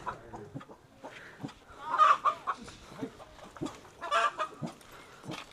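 Chickens cluck around a rural coop in Thailand, a busy scatter of close, uneven calls and short squawks with brief quiet gaps between them.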